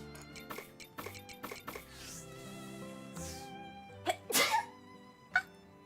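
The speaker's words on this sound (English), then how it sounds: "That was a sneeze." A single sharp human sneeze cuts through quiet video game music, a sudden loud burst with a smaller follow-up noise moments later.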